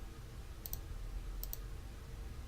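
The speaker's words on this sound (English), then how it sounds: "So I'll right click" Two crisp, faint double clicks of a computer mouse button, spaced about a second apart, over quiet room hiss.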